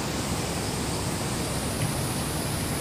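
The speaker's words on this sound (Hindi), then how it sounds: "सिर्फ आपको पानी की आवाज़ सुनाई देगी" Rushing water at Kotri Barrage, a steady broadband roar that fills the whole stretch without letup, with no voices over it.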